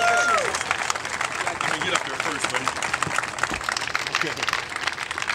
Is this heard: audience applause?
yes